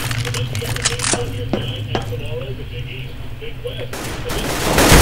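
Bursts of rapid automatic sniper fire in CS:GO ring out amid game ambience, sharp cracks spaced through a few seconds with a denser volley swelling at the end, voices talking faintly underneath.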